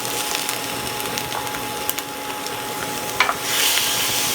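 Ground turkey and chopped kale fry in oil in a pan, a steady close sizzle with occasional scraping and stirring clicks as the food is moved around.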